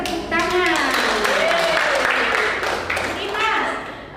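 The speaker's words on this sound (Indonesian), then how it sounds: "Oke, kasih tepuk tangan." A group of people clap their hands together in a school setting, a short burst of claps mixed under ongoing talk and voices.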